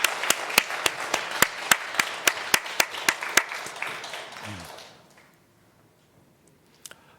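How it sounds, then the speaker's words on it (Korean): Church congregation at a Sunday worship service clapping together in a rapid, even rhythm of sharp claps that swell into general applause, then fade into near silence. "영광의 박수 올려드리십시다."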